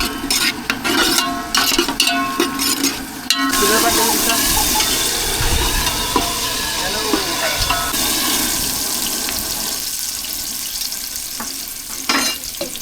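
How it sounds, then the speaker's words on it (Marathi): Onion and garlic frying in oil on a fishing boat give a loud, continuous sizzle mixed with stirring scrapes and watery splashing, with a strong low rumble in the background. "आता आपल्याला तेलामध्ये कांदा लसूण शिजवायचं आहे."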